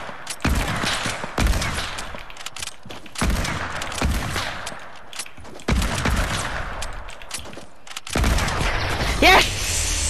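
Sniper rifle shots in a Fortnite Battle Royale match ring out as several loud, separate bursts spaced a couple of seconds apart, each with a sharp crack and a lingering tail.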